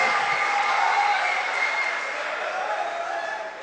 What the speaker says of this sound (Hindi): कस के तालियां बजाइए, हाजमा ठीक रहता है।